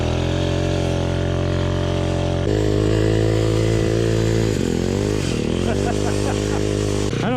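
A 58cc SYX mini dirt bike engine revs hard and steady through a burnout, a loud buzzing two-stroke drone with harmonic layers that wavers and dips near the end as the throttle changes.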